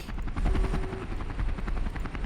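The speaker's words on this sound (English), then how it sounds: "I love these helicopters" A helicopter in a Halo Silent Cartographer mod gives off a loud, continuous rotor chop with rapid, even pulsing and a deep engine drone, heard nearby.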